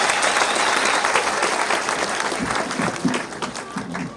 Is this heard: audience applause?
yes